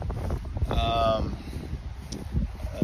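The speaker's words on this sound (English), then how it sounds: "Sorry, it's really windy and my phone no longer charges properly" Wind gusts buffet a phone's microphone outdoors, producing low, uneven rumbling bursts that swell and fade beneath someone talking.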